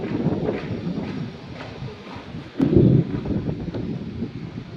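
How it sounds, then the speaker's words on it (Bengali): Wind gusting outdoors during light rain, a steady broadband rush that swells into a louder gust about midway before settling back, with no voices. "ফোটা ফোটা বৃষ্টি করছে একদম ফোটা ফোটা দাঁড়িয়ে আছে হাওয়াটা যা দিচ্ছে না ও দুর্দান্ত"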